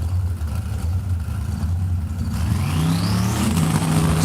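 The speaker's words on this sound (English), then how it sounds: "Spooling up, here come the turbos." Turbocharged drag race cars building boost at the starting line, a steady loud engine drone with a rising turbo whine climbing over the last half, mid-range engine tones shifting upward as they spool.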